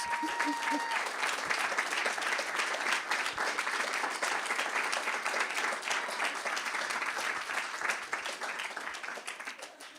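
A conference audience claps for an award recipient coming on stage, steady and dense applause that holds for several seconds before easing slightly toward the end.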